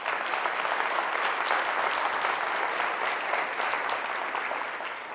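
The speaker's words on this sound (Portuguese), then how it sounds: "Você pode dar um aplauso ao Senhor?" Steady, dense applause from a church congregation in a Portuguese-language service, sustained and fairly loud throughout, with no voices rising above it.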